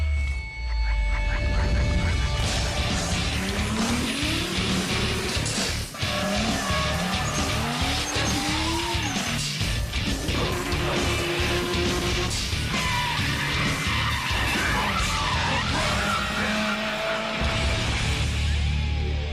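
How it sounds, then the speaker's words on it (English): A 550-horsepower Nissan R33 drift car on Altenzo tires at a Czech Republic drift event, its engine roaring hard and continuously with rising and falling revs while the tires squeal in long, loud skids, heard close and without talk. "his Altenzo tire Nissan R33 with a 550 horsepower setup"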